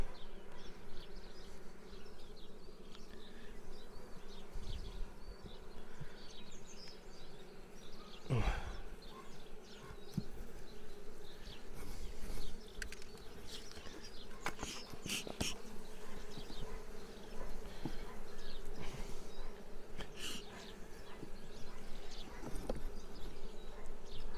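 Honeybees in an open hive during an early-April brood frame inspection, a steady close buzzing drone filling the whole stretch, with occasional louder passes of individual bees near the frames.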